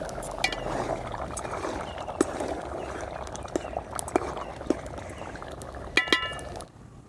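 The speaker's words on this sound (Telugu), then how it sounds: "కూర అడిగంటి పోకుండా మధ్యలో మూత తీసుకుని ఈ విధంగా బాగా కలుపుకోవాలి" Chicken curry being stirred in a pot with a spoon, giving soft scraping and clinking against the metal amid a steady bubbling simmer, with a few sharper clinks near the end.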